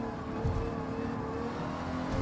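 A Group 4 Alfa Romeo 155 race car in Gran Turismo 7 at Tokyo, engine droning steadily and loudly throughout with a constant high whine, no talk.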